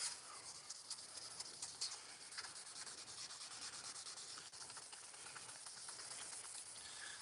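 Wet sanding car paint with 5000 grit sandpaper, a close, quiet, continuous rubbing hiss with a rapid back-and-forth scrubbing rhythm and no talking.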